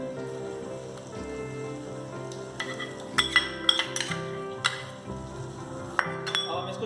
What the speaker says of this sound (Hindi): तो अब हम इसमें मलाई डालेंगे और मलाई डालते ही हमें उसको तुरंत चलाना है अच्छे से